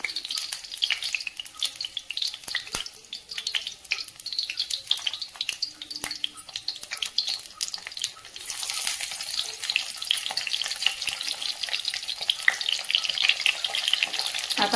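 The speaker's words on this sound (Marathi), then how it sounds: "इथं ना एकदम कमी तेलात मी आता ह्या मिरच्या बनवणार आहे बघा।" Green chillies frying in a small amount of oil in a home kitchen, a continuous crackling sizzle with scattered pops and occasional clicks, growing a little louder and denser partway through, no voices.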